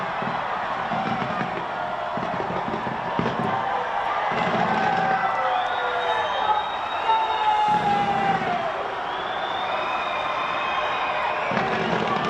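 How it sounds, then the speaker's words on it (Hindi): New Year fireworks over the Auckland Sky Tower in New Zealand, heard as a continuous wash of distant crackles and booms blended with crowd noise and whistling streaks. "इस मौके पर हुई शानदार आतिशबाजी ने लोगों का मन मोह लिया"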